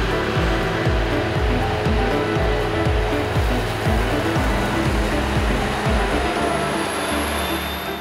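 Claas Jaguar forage harvester working alongside Fendt tractors during a whole-crop silage harvest, a steady loud machinery drone with a rhythmic low pulsing throughout.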